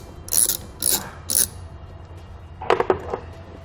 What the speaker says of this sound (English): So I'll loosen this nut up with a 10mm.